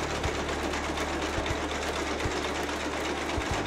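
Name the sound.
wool carding machine running in textile museum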